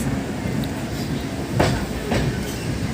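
The Howrah Balurghat Express pulls into a station platform with a low, continuous rumble of carriages, a couple of soft wheel thumps passing over joints, and a faint click partway through.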